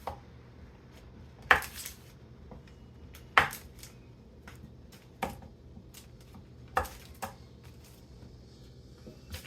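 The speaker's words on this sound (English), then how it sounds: "we're just going to cut this up into smaller pieces so that it melts faster" A knife cutting cold butter into smaller pieces on a board, about six sharp separate chops spaced a second or two apart, close and fairly quiet, with no talk.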